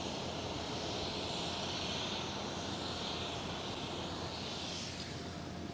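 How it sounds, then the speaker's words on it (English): A KLM Boeing 737-900 in SkyTeam livery taxis out at Amsterdam Schiphol, its jet engines a steady, broad distant roar with a whining hiss that holds evenly throughout. "KLM 737 SkyTeam livery. It's a 737-900. Just see it taxiing out right now."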